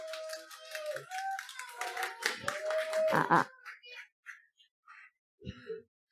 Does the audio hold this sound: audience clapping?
yes